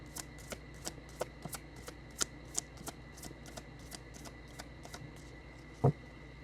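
A series of quiet, evenly spaced soft riffling taps of cards being shuffled, close by, ending with a slightly louder snap.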